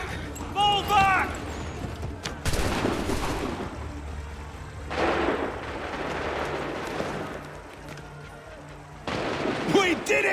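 Volleys of musket gunfire ring out in a battle in Assassin's Creed III, several loud cracking bursts in a row over an ongoing noisy din, with shouting voices at times.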